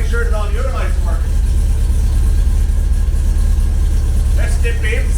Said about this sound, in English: Battery's getting a bit low, so that's why I have the engine running.